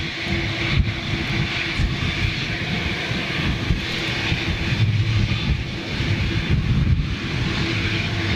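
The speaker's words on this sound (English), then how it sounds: "I believe, Rolls-Royce Trent 1000." Jet airliner powered by Rolls-Royce Trent 1000 engines, a continuous heavy roar with a steady hum and low rumble, fairly loud and unbroken, with no talking.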